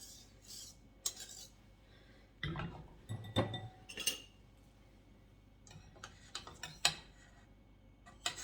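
A whisk clinks and taps against a bowl of lemon meringue pie mixture in irregular bursts, the strokes light and close with short pauses between them.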